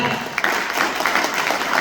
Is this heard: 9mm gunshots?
no